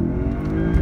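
Naturally aspirated V8 Lexus IS F racing a supercharged V8 Cadillac CTS-V, a brief loud burst of deep engine roar under hard acceleration, with no talk.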